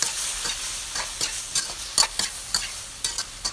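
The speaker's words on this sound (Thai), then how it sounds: "ขั้นตอนต่อไปใส่หมูเด้งลงไปค่ะ แล้วก็ทำการผัดต่อค่ะ" Bouncy pork meatballs being stir-fried in a pan for a Thai spicy stir-fry, a constant soft sizzle broken by regular scraping clicks of a utensil stirring roughly twice per second, close and alone.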